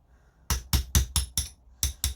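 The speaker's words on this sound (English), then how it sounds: "Little hammer." A little hammer taps on an air rifle part from a Weihrauch HW110, seven sharp close metallic knocks in a quick, fairly even rhythm with a short pause before the last two.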